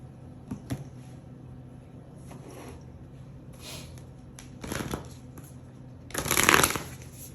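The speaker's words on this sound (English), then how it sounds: "we're going to shuffle the oracle cards and pull those out next" Oracle cards riffle and shuffle in several short bursts, close and crisp, with quiet pauses between them and the final shuffle loudest.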